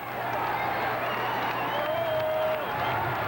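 A capacity crowd at a Chargers at Broncos football game, a broad, continuous stadium roar that stays loud and steady beneath a commentator's voice.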